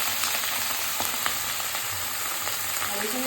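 Potatoes, eggplant and bottle gourd stems sizzle steadily in hot oil, with a dense continuous crackle and occasional scraping taps of a spoon stirring the pan.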